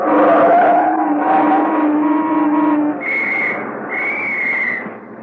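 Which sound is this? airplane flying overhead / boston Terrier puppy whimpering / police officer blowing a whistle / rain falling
police officer blowing a whistle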